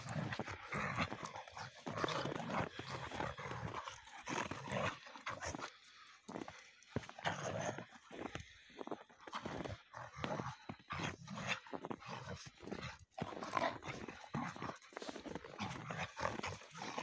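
A dog on its first snow outing makes close, irregular rustling and snuffling sounds that keep going throughout, with no talking.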